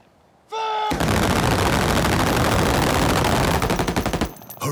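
Battle of Britain fighter aircraft machine guns firing a single long burst, a loud, close, rapid stream of shots lasting several seconds, preceded by a short beeping tone and ending abruptly into quiet.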